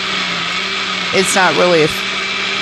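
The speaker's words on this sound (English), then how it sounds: "we're going to transfer that over into a blender, and we're going to blend it up into like a smoothie mode" A blender purees cooked hot sauce with its seeds into a smooth liquid, roaring loudly and continuously up close while a person talks briefly over the motor.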